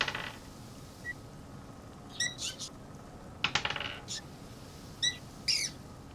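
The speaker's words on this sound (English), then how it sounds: "I hear dice rolling" Dice rattle and clatter on a hard surface in several short, crisp bursts of clicking, spaced out over a few seconds, quiet and close with no voices.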